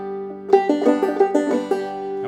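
Clawhammer banjo picking brush strokes from the tune June Apple, a short run of bright plucked notes over a ringing open string drone, close and clear, no talk.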